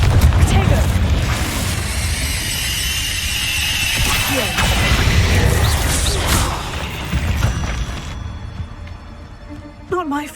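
Repeated Confringo explosive spell blasts and crashes during a giant spider fight in Hogwarts Legacy, loud booms and smashing impacts rolling one after another for several seconds, with whooshes and a final burst near the end.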